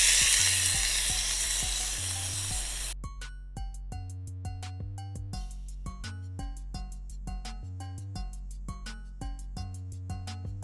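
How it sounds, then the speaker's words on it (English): Salmon fillets frying skin-side down in a pan for a honey sriracha dish. After a burst of steady sizzling, a close rhythmic pattern of sharp percussive hits plays over low tones, suggesting music or tapping overlaying the cooking. "Now you want to add in your salmon, skin down, cooking it 4 to 5 minutes each side."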